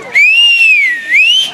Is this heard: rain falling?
no